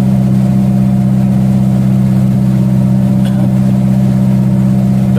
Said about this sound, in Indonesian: Di depan kita ada motor jukung.